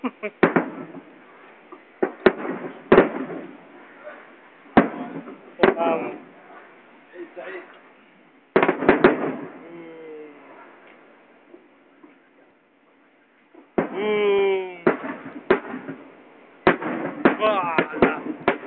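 Sharp cracking bangs of an Eid fireworks display in Saudi Arabia go off in irregular bursts, some in quick clusters, with people talking throughout between the blasts.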